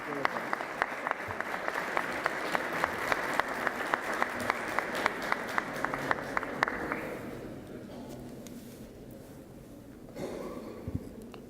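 An audience applauds a speaker being welcomed, with steady clapping with distinct claps for about seven seconds that then fades out, leaving quieter room noise and a few faint sounds.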